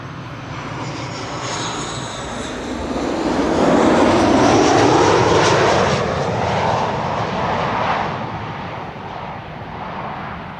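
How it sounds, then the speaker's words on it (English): A Transavia Boeing 737 arriving from Alicante lands at Amsterdam Schiphol, its jet roar swelling as it passes close overhead, peaking loud midway, then easing into a steady rumble with no talk. "This is Transavia flight 6144 arriving from Alicante. This is a 737"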